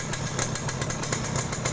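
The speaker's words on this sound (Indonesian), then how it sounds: "suara mesin masih garing" A 2004 Yamaha F1ZR motorcycle engine idling steadily, a continuous rapid two-stroke putter heard up close and fairly loud, with no talk.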